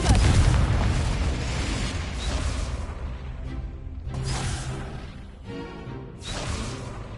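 Confringo fire spell blasts in Hogwarts Legacy, a series of booming, whooshing bursts, loud and close, rolling into one another in waves.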